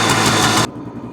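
A three-wheeler engine running at high idle, loud and close with a fast even rumble that stops abruptly after about two thirds of a second, leaving only faint background noise.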